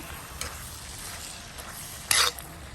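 Squid masala cooks in a pan with a soft, steady sizzle. Brief scraping stirs break through it, including one sharper spatula scrape near the end, heard close and with no talking.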